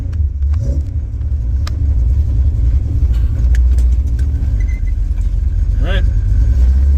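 An old 1969 Chrysler 300, just woken from storage after a cold start, rumbles loudly and steadily as it pulls away, with a few faint speech-like sounds over the low engine drone.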